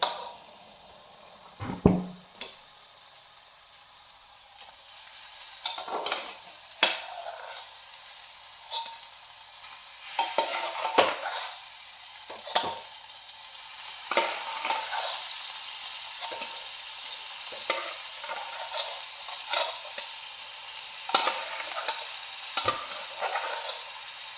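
Cooked mutton from a pressure cooker stirred into a hot frying pan, giving a steady sizzle with repeated scraping and clinking strokes of a spoon against the pan, close and moderately loud.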